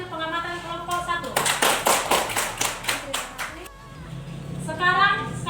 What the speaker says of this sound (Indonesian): kita berikan tepuk tangan untuk hasil pengamatan kelompok 1